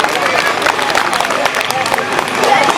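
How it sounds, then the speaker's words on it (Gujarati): A school annual function audience claps steadily in dense, continuous applause with crowd murmur throughout. "તાળીઓ પાડીને આમનું પ્રોત્સાહન કરો"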